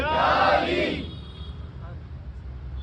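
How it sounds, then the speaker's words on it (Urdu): A crowd at a religious celebration gathering shouts the Nara-e-Haidari slogan in one loud, unified roar that swells and then fades within about a second, leaving a quiet murmur. "میرے ساتھ لگائے نعرے حیدری، نعرے حیدری۔"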